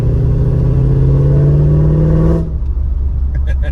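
Mercedes E55 engine revving hard on a downshift, a loud close rising mechanical drone with strong low harmonics that cuts off sharply, leaving faint road rumble.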